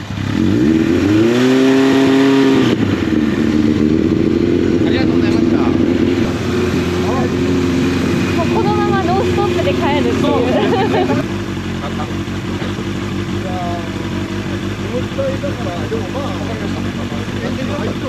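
A Suzuki GSX-R750 motorcycle outdoors by a cafe, its electric starter cranking before the engine catches and revs briefly, then settles into a steady idle. Nearby voices talk over it throughout.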